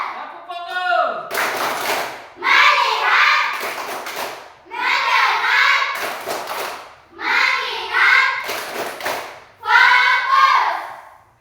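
Hand clapping in a classroom ice-breaking game comes as short, loud bursts of many hands at a steady, regular pace, alternating with a group of children chanting in unison between the claps.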